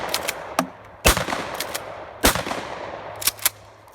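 A gun fired from the hip sounds off in several sharp, loud cracks spaced irregularly over a few seconds, each a close, abrupt report with a short tail.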